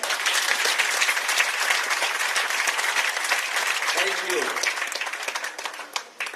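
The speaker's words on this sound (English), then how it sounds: "Ladies and gentlemen, can you please clap for the Minister of Health?" Audience at a Sierra Leone hospital solar energy event applauding for the Minister of Health, a sustained crowd clap under a speaker's voice that thins out toward the end.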